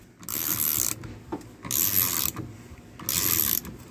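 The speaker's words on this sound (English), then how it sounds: "Got the steering wheel puller on now. Hopefully it'll pull this thing off rather than pull the bolts out of the steering wheel." Steering wheel puller working on a 1976 Dodge D100 steering wheel, three close bursts of ratcheting, grinding mechanism noise separated by short pauses, with no talking.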